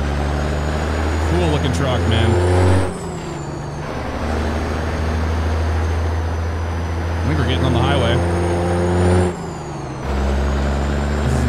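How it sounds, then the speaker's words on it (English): Loud, close rumble of a Ford Aeromax truck's Jake brake in American Truck Simulator, a steady low drone with a break around three seconds and another near ten, while someone talks over it. "This is that Jake brake from the outside view."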